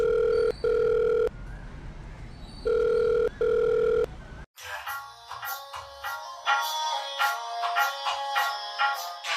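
A telephone rings, with two steady electronic ring tones separated by a pause, then the sound cuts to a busy, bright stretch of other noise.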